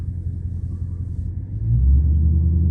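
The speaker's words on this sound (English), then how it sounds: "Oh, that was that truck right there." A low engine rumble grows louder as a heavy vehicle rolls past nearby, the drone peaking toward the end.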